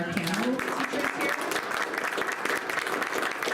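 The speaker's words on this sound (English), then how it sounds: "can I just get you to do a huge round of applause for Richard Tanimoto" An audience at a music school event applauds a piano teacher, sustained clapping with a voice briefly audible at the start.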